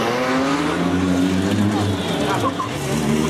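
Formula Student race car, number 42, lapping the track during the 2012 Formula Student Germany endurance event, a loud continuous high-revving engine drone held steady for the whole stretch with a slight pitch dip near the end.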